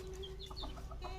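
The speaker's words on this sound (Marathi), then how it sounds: "कोंबडा आहे बघा" A rooster clucking in short, quick bursts close by, a faint steady hum behind it and no talking.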